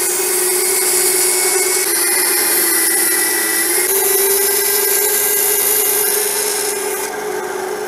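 A band saw fitted with an 8-inch bimetal blade cuts steadily and loudly, giving an unbroken grinding, rasping whine that runs through the whole stretch with no talk.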